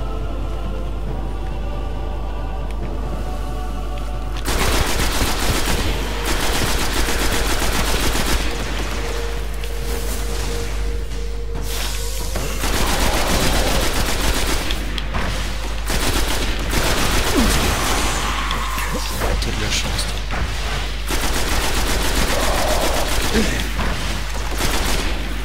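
Rapid gunfire bursts in the shooter video game Destiny, loud and close, with repeated volleys and booms rattling through most of the stretch after a quieter opening.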